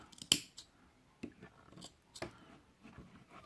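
Scissors snip during the build of a Crius RDTA vape tank, with a few quiet, close cuts spaced unevenly around a sharper opening snip.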